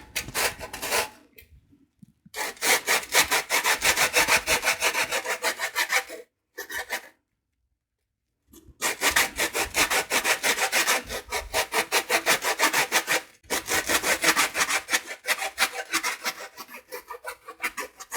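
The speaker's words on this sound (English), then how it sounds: "I don't have a zester, so I used a grater." Orange peel is rubbed hard against a metal grater in fast, rhythmic rasping strokes, several bursts of steady scraping separated by short silences, close and alone.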